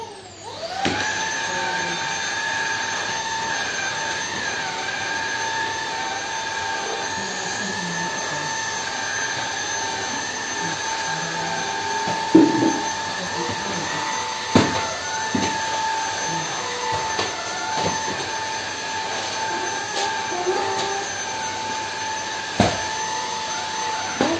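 A vacuum cleaner starts up and runs steadily with a high whine, close by, with a few knocks and bumps along the way.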